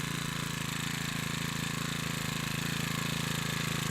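A Makita EBH252U four-stroke petrol brushcutter runs with a steady, even, close-up engine drone that holds constant throughout, with no talking.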